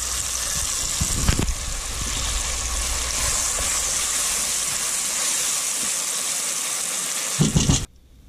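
Large onion and salt beef frying in hot oil for a porcupine pie, a loud steady sizzling hiss that holds evenly and cuts off abruptly near the end.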